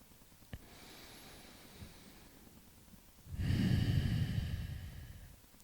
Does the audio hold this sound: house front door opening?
no